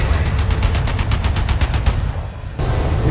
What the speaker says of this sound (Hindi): ये देखो कैसे गोलियां मार रहा है